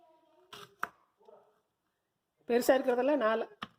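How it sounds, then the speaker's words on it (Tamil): Brussels sprouts being sliced with a knife for a stir-fry, a few short, sharp cutting clicks spaced apart in a quiet kitchen, followed by someone speaking. "இப்படி ரெண்டாம் கட் பண்ணிக்கலாம்"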